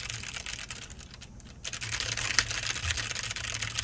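Rapid, steady tapping on a computer keyboard continues throughout, close and clear, with a brief pause partway through.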